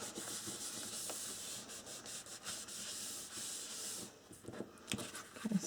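A tool burnishes a paper fold on a handmade calendar album, giving soft, close rubbing and scraping strokes in short repeated passes with small pauses.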